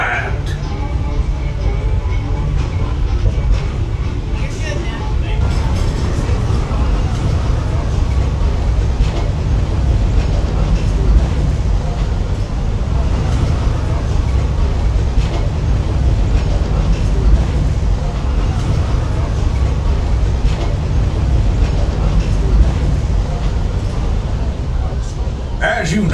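The Walt Disney World Railroad train rolls along its rails at Magic Kingdom, with a continuous low rumble and clatter throughout while an announcer's narration plays over it.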